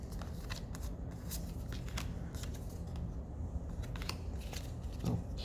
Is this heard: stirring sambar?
no